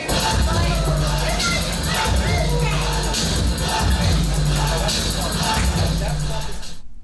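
A capacity crowd at a CCW pro wrestling show fills the room with steady loud cheering and hubbub, a continuous wall of crowd noise with swells, while voices speak over it.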